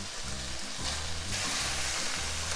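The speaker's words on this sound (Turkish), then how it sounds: "Önce sarımsaklarımı ekliyorum. Sarımsaklarımı ekledim. Şöyle bir iki kavuruyorum." Garlic sizzles loudly in a hot oiled pan with eggplant for a Turkish şakşuka, a steady close crackle with faint stirring scrapes and no talk.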